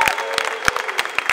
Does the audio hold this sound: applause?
yes